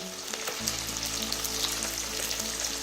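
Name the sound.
mandeli fish frying in masala coating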